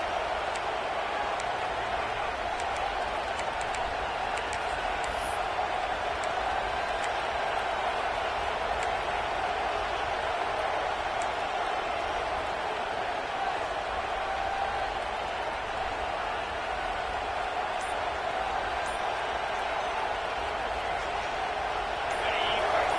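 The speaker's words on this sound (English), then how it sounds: "the crowd coming to life here, trying to help this defense down in the red zone" Stadium crowd noise in the video game College Football 26, Notre Dame versus Miami, a steady dense roar of many voices filling the background while a commentator talks over it.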